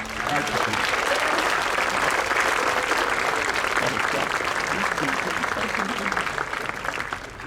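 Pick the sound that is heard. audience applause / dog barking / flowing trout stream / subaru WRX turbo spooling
audience applause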